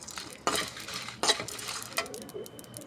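Sesame seeds, dried red chilies, peanuts and dal dry-roasting in a pan, with sharp spoon scrapes and clinks against the metal amid a faint rustle of the seeds, close and moderately loud.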